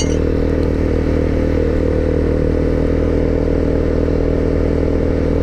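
A Honda CBR300R motorcycle climbs a steep hill in a low gear. Its engine gives a loud, steady, close drone with a constant pitch and no pauses or voices.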